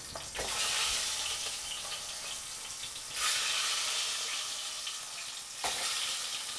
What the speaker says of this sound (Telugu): ఇట్లా ఆయిల్ మరిగిన తర్వాత కొంచెం పసుపు వేసుకొని ఇట్లా ఎగ్స్ని బాయిల్ చేసుకోవాలి, ఫ్రై చేసుకోవాలి